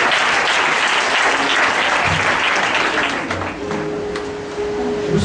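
A church congregation at a Pentecost service bursts into loud, continuous applause in praise of the Lord. The dense clapping fills the room throughout and eases slightly midway, with a faint tone briefly heard underneath.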